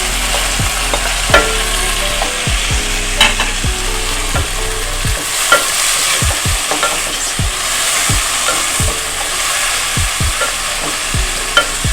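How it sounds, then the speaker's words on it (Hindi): Onions and tomatoes sauté in a pan with a constant sizzle, while a utensil scrapes and stirs through them in regular strokes every half second or so. "इसको सौते कर लेंगे थोड़ा सा।"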